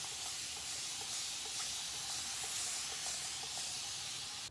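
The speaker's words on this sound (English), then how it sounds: "my handy dandy spray bottle of water" A spray bottle of water mists wet hair with a continuous soft hiss, steady and close for several seconds, no voices over it.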